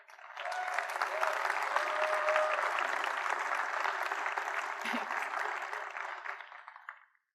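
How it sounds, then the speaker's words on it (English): A conference audience applauds the organizers with dense, sustained clapping that swells quickly, holds steady for several seconds, then fades out abruptly, with no voices on top. "Can we just give a round of applause for the organizers real quick?"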